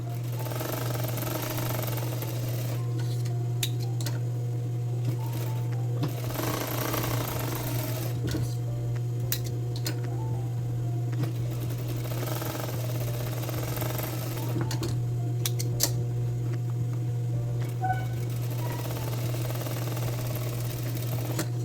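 Sewing machine running steadily while stitching a straight seam on men's denim jeans, a continuous close mechanical hum with rhythmic needle clatter and brief pauses throughout.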